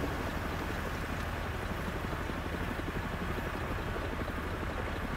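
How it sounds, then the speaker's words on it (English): A helicopter in a zombie video game, a steady dense rotor and engine roar held at constant loudness throughout, with no speech over it. "Chopper."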